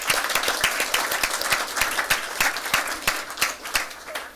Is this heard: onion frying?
no